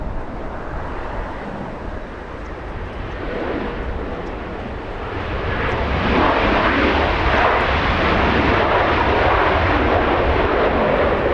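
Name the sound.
Alaska Airlines A321neo jet arriving at LAX airport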